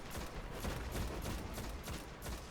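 Rapid gunfire in the video game Destiny, a dense, continuous volley of shots crackling through the whole stretch at a fairly quiet level, with no talking over it.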